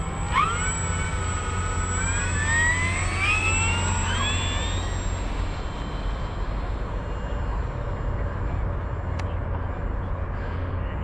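FMS F7F Tigercat 1700mm RC model warbird takes off, its twin electric motors whining and climbing in pitch over steady wind noise, then fading as the plane pulls away into the distance.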